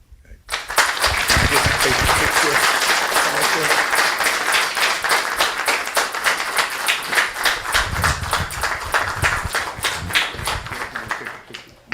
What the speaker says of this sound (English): Get another round of applause.